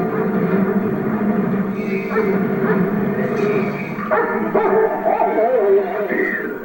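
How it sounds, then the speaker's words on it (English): Several dogs in a pack chasing a man in the film Altered States bark, yip and whimper together in a loud, overlapping clamor that continues throughout. "gets chased down by a pack of dogs."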